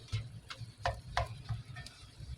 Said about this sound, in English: we got our meat brown. Just gonna stir it around